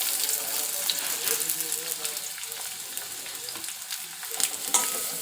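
Steady sizzling of onions frying in hot oil, with occasional stirring scrapes and crackles, close and continuous throughout.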